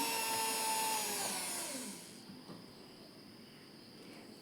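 Electric mixer whirring through cake batter, a steady motor whine that tapers off and stops partway, leaving faint room noise.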